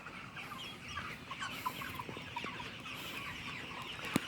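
Sonali chickens clucking inside a poultry farm shed: soft, continuous overlapping clucks and murmurs from many birds at moderate distance, with one sharper call near the end.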